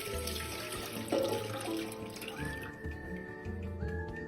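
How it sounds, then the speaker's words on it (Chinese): About 800 ml of water poured into a cooking pot, a soft splashing stream that fades into quieter trickling, faint and close, with no talking. "锅内倒入800毫升清水"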